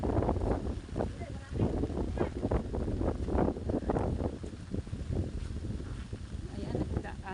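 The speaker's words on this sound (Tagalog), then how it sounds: "So yung ngayon po malakas pong hangin ngayon." Strong gusts of wind on a shore with high waves buffet the microphone in rough, uneven bursts, with voices talking intermittently underneath as boats are hauled up.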